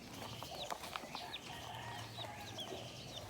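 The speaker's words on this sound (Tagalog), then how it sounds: "Mga sisiw. Sisiw ng manok." Chickens and chicks on a farm clucking and peeping softly and intermittently, with faint background noise.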